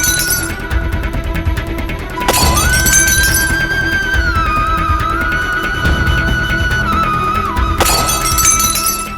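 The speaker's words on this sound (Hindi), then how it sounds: "ऐसा लग रहा है जैसे कहीं शीशा टूटा हो।" Glass shatters in a loud, sudden crash during a tense TV drama scene, with a sharp break near the start and another burst of breaking later over a sustained musical tone.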